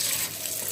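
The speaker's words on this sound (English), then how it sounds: "So I'll be adding water to the meat." Water pours steadily into a cooking pot of meat as okra is prepared at home, a continuous close gushing splash with no talk.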